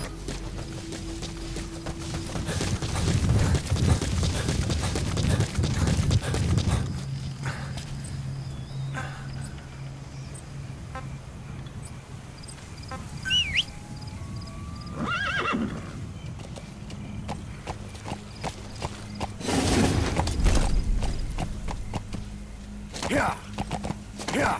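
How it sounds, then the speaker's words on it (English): Horse hooves clip-clopping in the video game Metal Gear Solid V: The Phantom Pain, a steady galloping beat with whinnies and neighs, loud and close over game ambience and music. "Use your horse."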